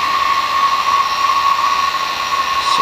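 A vacuum pump evacuates the air conditioning system on a Ford Crown Victoria, producing a loud, steady, close drone with a constant hum and no speech.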